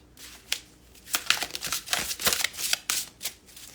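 Brand-new tarot cards being shuffled close up in a quiet room, a run of crisp riffling bursts and papery slaps that come in irregular clusters, with no voice heard.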